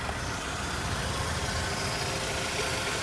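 A Saab turbo engine, switched to gas fuel, idles steadily and evenly with a constant close rumble and no voices.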